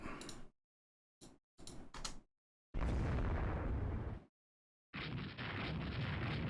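Torpedo explosions in the naval game Rule the Waves 3, heard as several short clipped blasts followed by two long, loud, roaring booms with abrupt cutoffs and silent gaps between them.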